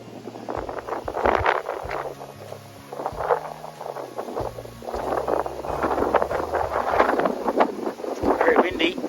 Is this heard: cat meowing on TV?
no